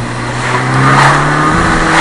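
A Fiat Abarth car engine revs loudly and close, its note swelling briefly over about two seconds.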